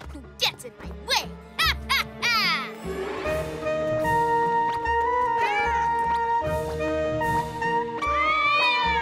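Cartoon cats in a PJ Masks episode meow in several short, sharp cries, followed by a longer warbling yowl and sustained musical tones.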